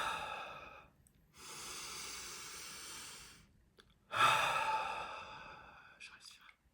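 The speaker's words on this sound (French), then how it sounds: "Je respire." Slow, deep breaths through the nose while one nostril is held pulled aside, a long hissy inhale and exhale, then a stronger sniff, close and intimate, with no speech over them.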